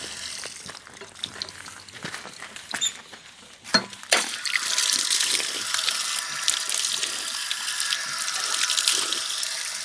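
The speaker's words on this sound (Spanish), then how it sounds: "Ahí están sacando agua." Water gushes from an old tap as people draw water, a steady splashing rush that grows louder and fuller partway through, close by and continuous with no talking.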